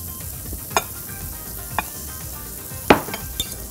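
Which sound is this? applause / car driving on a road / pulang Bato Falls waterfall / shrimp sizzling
shrimp sizzling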